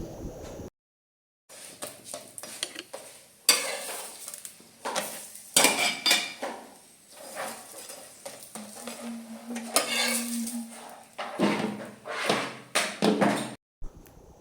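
Okra roasts in a pan amid busy kitchen handling, with stretches of stirring scrapes and clattering pots and utensils, brief pauses, and a faint sizzle underneath.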